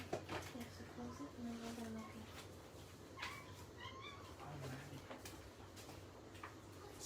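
A cat meows a few times at moderate distance, with short tonal calls scattered through a quiet room where people talk faintly in the background.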